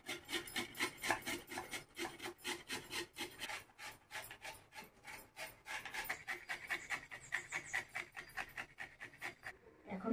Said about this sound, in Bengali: এখন আমি গাজরগুলো ঘষে নেব।